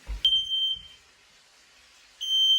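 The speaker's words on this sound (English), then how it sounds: "That is the fire alarm." A kitchen smoke alarm gives a sharp, piercing high beep that holds for about half a second, then returns after a silent gap as a second loud sustained tone, with a couple of low thumps under the first beep.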